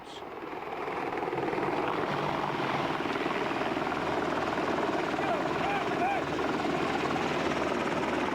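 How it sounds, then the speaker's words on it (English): An Apache military helicopter flies overhead with a steady, dense rotor thump and engine roar that swells in the first second and then holds loud and even. "Fletcher Johnson pans away, then back to catch the Apache as it drops behind a small hill. A few seconds later, it explodes."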